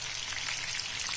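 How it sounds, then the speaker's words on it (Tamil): Fish pieces frying in hot oil for a dum fish biryani give a steady, dense sizzle and crackle close by, continuous with no pauses and no voices. "மீன் பொரிஞ்சுக்கிட்டே இருக்கு"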